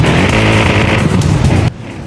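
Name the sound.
Aston Martin car engine in Forza Horizon 5 video game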